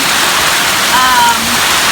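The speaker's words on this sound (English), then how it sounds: "A lot of rain in Cayman, a lot of wind." Tropical Storm Eta pours heavy rain with strong wind over George Town, Cayman, a loud unbroken wash of rushing water close to the microphone, with a brief faint tonal whine partway through.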